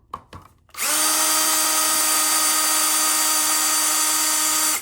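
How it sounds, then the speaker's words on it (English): A Milwaukee power drill set to slow speed whines steadily as it backs out soft screws from a USB receptacle install. A couple of brief knocks come first, then one loud, close, continuous run. "I'm gonna use my favorite drill, my Milwaukee drill, and I'm gonna take it out"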